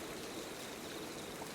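Rain falls in a soft, steady wash of hiss and patter, faint and continuous with no distinct drops standing out, and no voices.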